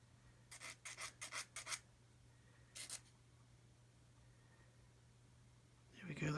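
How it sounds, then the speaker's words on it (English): Diamond files rasp across the nibs of a fine photo-etched part in a quick run of six short, faint strokes, then a brief pair after a pause, over a low steady hum. "So we're just going to file these nibs off."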